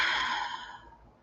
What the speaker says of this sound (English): you want to take a breath and breathe into it like this